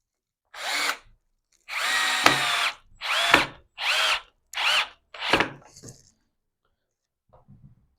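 Power drill driving screws into a wooden ping-pong table under construction, six loud close bursts of whirring separated by short pauses, the last ending in a brief stop, followed by faint handling noises.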